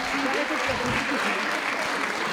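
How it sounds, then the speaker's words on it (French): A crowd at a beauty pageant claps steadily in sustained applause, dense and even throughout, with faint voices mixed underneath. "Applaudissements."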